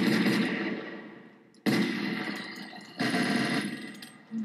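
Three long bursts of rapid automatic fire from a Minecraft gun mod, each loud and sustained before cutting off, with a brief gap between bursts, no talk.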